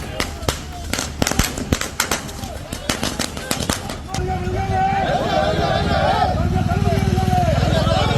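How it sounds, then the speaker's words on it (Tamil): Firecrackers set off by political party supporters celebrating in Tamil Nadu crack in a rapid burst of loud, sharp bangs, then give way to a dense sustained crackle and crowd noise. Talk runs underneath. "திமுக கூட்டணியில் இருந்து காங்கிரஸ் வெளியேறியதற்கு திமுகவினர் பட்டாசு வெடித்து கொண்டாடினர்."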